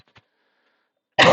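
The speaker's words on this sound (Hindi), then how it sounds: "सॉरी, खांसी हो गया यार" A single sharp, loud cough bursts out near the end after near silence, preceded by a faint breath, from a man teaching a maths lesson.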